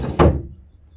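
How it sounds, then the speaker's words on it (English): A wooden chicken coop door on a DIY pulley system with eye bolts makes a single short thudding knock as it moves and settles, then fades quickly to quiet. "Got a little pulley system rigged up here, a couple eye bolts, and door moving up and down real good."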